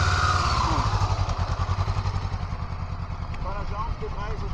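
A Honda VTR motorcycle rides in first gear with a throbbing, pulsing engine note up close, loud at first and easing off, while someone talks over it.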